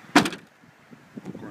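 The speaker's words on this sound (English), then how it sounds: "as this tailgate folds down, holds up to 400 pounds" The tailgate of a 2010 Mitsubishi Outlander SE drops open with one sharp close thump, followed by faint knocks and low rustling.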